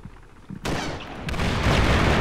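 Gunfire in DayZ: a loud, abrupt shot followed by a second blast and rumbling echo, dense and close.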